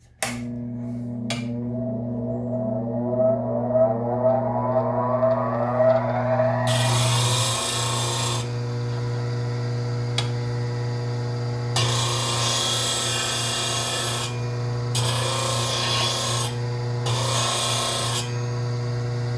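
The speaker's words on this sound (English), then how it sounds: "All you do is turn the grinder on, and that's the only part you sharpen." A bench grinder spins up with a rising whine and then hums steadily, while a woodturning gouge's bevel is pressed to the wheel in four separate bursts of harsh, bright grinding rasp.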